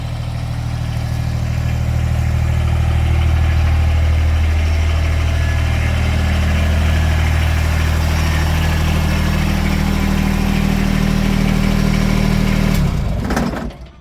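A tractor engine idles steadily with a deep, continuous rumble, close and loud, then cuts off abruptly near the end, on a thawing farm.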